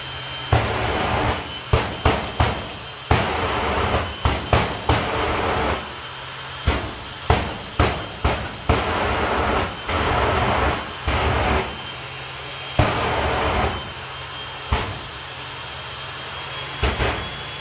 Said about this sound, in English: So winding up the thrust, hence the extra noise.